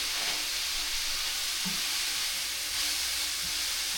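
Frozen peas and carrots sizzle steadily in a hot pan for fried rice, a continuous loud frying hiss with faint stirring, no talking.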